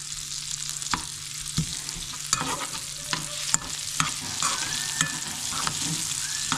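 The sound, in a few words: sautéing vegetables with bacon and garlic in a pan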